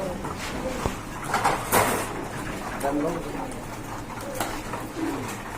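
Pigeons in a loft where single birds are kept, with soft cooing and calls heard under nearby talk, a sharp door-like knock and mixed movement noise.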